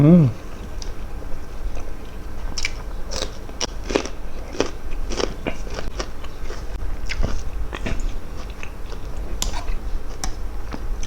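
Crisp fresh vegetables eaten with a frog chili dip make repeated crunchy bites and chewing, close and fairly loud in an irregular rhythm, with occasional bits of talk.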